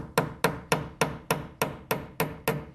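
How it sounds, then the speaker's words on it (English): A small hammer taps the metal prongs of a reticulated silver bolo tie in nine sharp, evenly spaced strikes, each ringing briefly, close and clear with no talking. "using a little hammer on the side"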